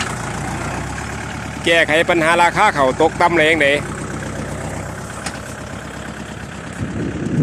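A tractor engine runs steadily in the background of a rural Thai rice-farming area, a low continuous drone beneath someone speaking loudly in Thai.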